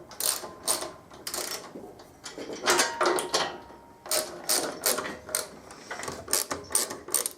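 Ratcheting clicks from a hand tool turning bolt threads into a TEC shock absorber on a Harley-Davidson XL883R Sportster in a garage, in irregular bursts of close, crisp mechanical clicking with no talk.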